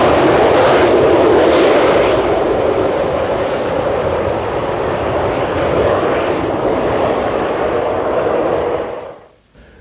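Jaguar jet aircraft in a flying display roaring loudly and steadily overhead with a broad rushing engine noise, then fading quickly at the end.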